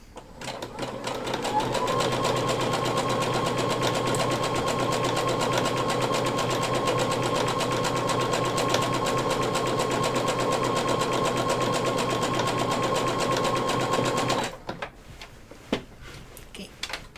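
A sewing machine stitches steadily along the original seam of a dress, a continuous even whir running for about thirteen seconds before stopping, followed by a few light handling clicks.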